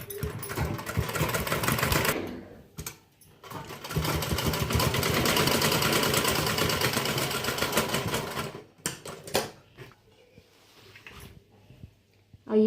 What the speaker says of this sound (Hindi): अभी बस डबल सिलाई मार देगा